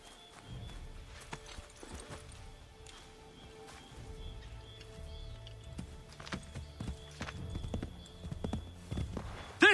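Horse hooves clip-clop at a trot in the video game Assassin's Creed 3, faint at first and then growing louder and closer, with rustling and a sharp knock at the end.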